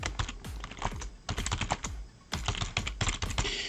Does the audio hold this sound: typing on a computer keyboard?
yes